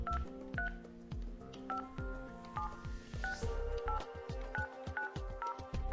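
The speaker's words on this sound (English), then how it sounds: "Press the phone number first." Phone keypad tones dial a number on an office phone system extension, a steady run of short, evenly spaced beeps, each key press clear and close.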